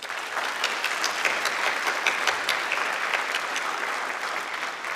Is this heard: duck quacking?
no